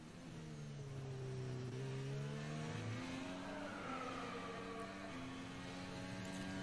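Sergio Pérez's Formula 1 car approaches during Bahrain Grand Prix practice, its high engine note rising and sweeping in pitch as it nears, loud and continuous with no talk over it.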